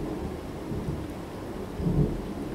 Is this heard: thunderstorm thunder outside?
yes